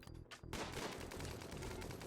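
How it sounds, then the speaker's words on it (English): Bursts of gunfire from a RimWorld siege battle crackle in rapid succession, with a few separated shots followed by a dense, continuous volley of overlapping reports. "So we'll stop here and get a couple shots off."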